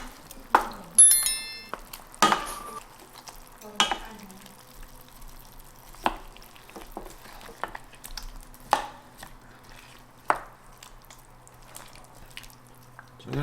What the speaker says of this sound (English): I'm going to try just to get everything in here mixed up into the juices